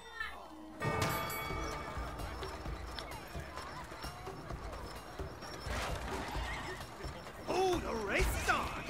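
A horse whinnies over quick hoofbeats amid sounds from the video game It Takes Two and excited voices talking, busy and lively throughout.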